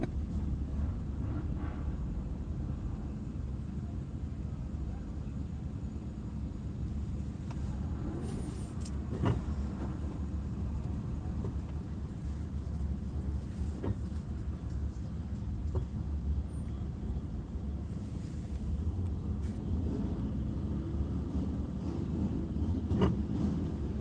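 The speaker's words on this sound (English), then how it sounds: "Assholes like that revving their engines, you know." Car engines rev loudly on a street outside, a steady broad rumble running throughout with a few sharper surges, fairly close and continuous with no talking.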